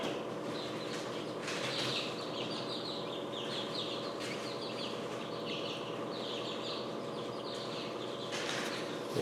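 Chicks cheep faintly from inside their cracking eggs in an incubator, a scatter of soft, high chirps repeating over a steady low hum.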